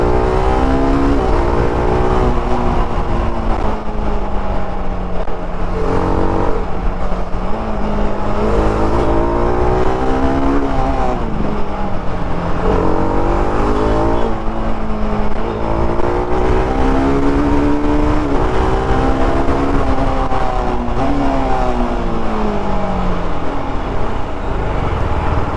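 A 2024 TVS RR310 motorcycle engine revs steadily and loudly, its note climbing and falling repeatedly over about 25 seconds, with no one talking.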